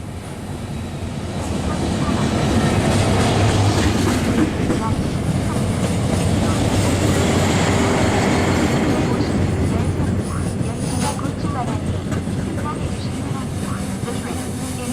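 A passenger train rumbles loudly and steadily at a station platform, a continuous low roar with faint clatter over about fifteen seconds, while a platform announcement voice is heard underneath.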